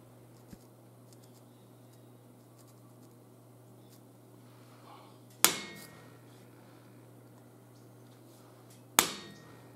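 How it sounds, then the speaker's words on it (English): A homemade steel punch is hammered twice into a knife handle to stamp a divot, each blow a sharp, close metallic crack spaced a few seconds apart over a steady low hum in a quiet workshop. "We're going to use the punch we made to stamp the divot in our handle."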